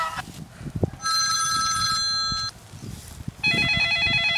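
Electronic mobile phone ringtones in bursts, a bright, loud, beeping melody that stops and starts again, with shuffling and handling noise in the gaps between.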